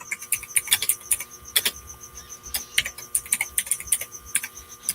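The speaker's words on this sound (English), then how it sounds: "Oh, you can hear me typing?" Fingers rattle across a clicky computer keyboard in quick, uneven bursts of crisp, close keystrokes, with short pauses between runs and no voice over them.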